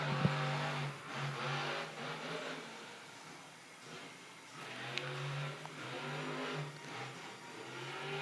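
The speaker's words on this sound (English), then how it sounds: "Revving the engine." The Overboard monster truck's engine revs in a Monster Jam freestyle arena. It sounds distant and fairly faint, a throaty drone that swells and dips in repeated pulls and carries over a murmuring crowd.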